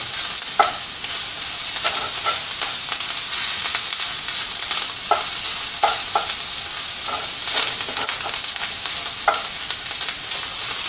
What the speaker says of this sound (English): We get to add the kale and stir that in.